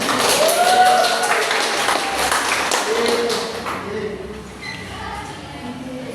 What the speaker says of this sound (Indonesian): Ya, bagus sekali jawaban kita. Ya, beri tepuk tangan.